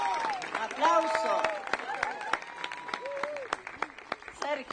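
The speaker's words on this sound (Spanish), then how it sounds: "¡Aplauso!" Wedding guests applaud at a civil ceremony, scattered clapping with cheers and overlapping voices, loud at first and then thinning into sporadic claps.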